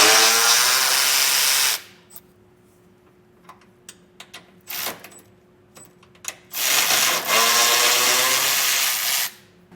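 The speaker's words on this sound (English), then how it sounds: "I'll be using a 15mm socket to get the 2 nuts removed" A power tool spins a 15mm socket on the two nuts holding factory jounce bumpers on a 2022 Ford F-250, with loud whirring bursts at the start and end separated by quieter clicks and ratcheting ticks.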